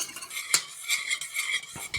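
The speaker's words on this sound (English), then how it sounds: "Let's give this a stir" A utensil stirs thin General Tso sauce in a pan, making close, irregular scraping and clinking against the metal with faint sizzling underneath.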